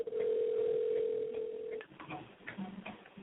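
Telephone dial tone after the receiver is hung up: a steady, near hum that holds for almost two seconds and then cuts off, followed by faint clicks and handling noise.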